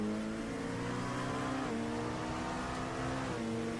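A BMW GT3 race car passes at speed on the Road America circuit, its engine note loud and steady with a shifting pitch as it goes by, alone with no talk.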